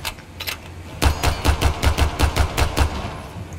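Gunshots from Rainbow Six Siege: two early shots, then a rapid, evenly spaced string of about ten loud, punchy reports with deep low thumps, ending abruptly.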